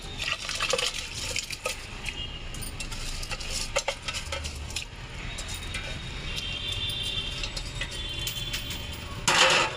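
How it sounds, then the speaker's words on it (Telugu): Water poured into a pot of prawn biryani, a soft continuous splashing and trickle with light clinks of metal cookware, heard close and fairly quiet. "కొంచెం వాటర్ వేద్దాం"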